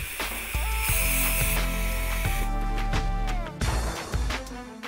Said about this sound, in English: thoroughly clean the brake parts with Liqui-Moly Rapid Cleaner to leave them free of grease